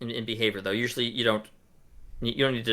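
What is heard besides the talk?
No everyday noises stand out.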